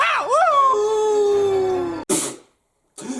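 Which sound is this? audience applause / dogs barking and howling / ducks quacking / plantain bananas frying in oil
dogs barking and howling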